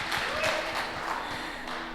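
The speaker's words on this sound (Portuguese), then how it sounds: "Uma salva de palmas para esses homens de Deus aqui" Applause from a church congregation honoring ministers, a dense continuous patter of many hands with a few distinct claps, steady and moderately loud throughout.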